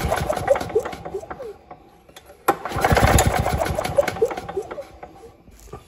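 A Victa Silver Streak two-stroke alloy-bodied lawn mower with its spark plug grounded out has its starter cord pulled, giving a few loud close rattling whirs and ratchety cranking bursts that fade without the engine running.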